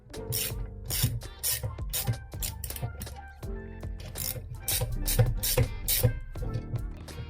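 A ratchet tightens bolts on an engine intake manifold, with loud rapid clicking bursts that repeat in short strokes, pausing between runs.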